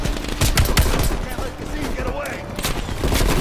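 Rapid gunfire from the Call of Duty Black Ops Cold War video game played on PS5, dense bursts of automatic shots crackling loudly and continuously through the whole stretch, with a faint voice briefly underneath.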